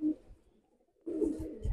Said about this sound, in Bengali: এটা ইরানি পিপলাইন কবুতর